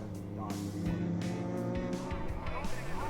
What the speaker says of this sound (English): Fabulous cars, they sound amazing because it's all grunting induction engine noise.